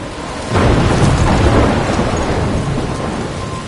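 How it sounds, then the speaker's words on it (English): Heavy rain pours in a steady broadband roar during a thunderstorm in a video game, with a deep thunder rumble swelling in after a quiet start and lingering loud to the end. "I'm trapped in a storm?"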